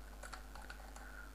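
Keystrokes on a computer keyboard while typing Action Script 3.0 code, a quick irregular patter of close, light clicks with short pauses between bursts.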